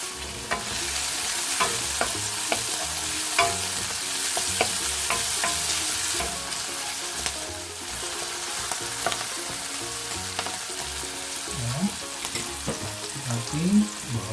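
Onion sautéing in a pan over lowered heat for a cream-sauce pasta, a steady close sizzle broken by repeated scraping stirs and spoon clinks throughout, with no talking.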